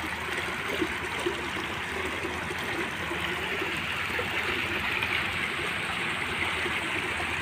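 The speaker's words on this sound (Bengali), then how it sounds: "ঝর্ণাটা আছে কৃত্রিম ঝর্ণা, সেই ঝর্ণার পানিটা এখান থেকে" Continuous rushing and splashing of an artificial fountain at a mosque in Brunei, flowing steadily, a constant wash of sound with no talking.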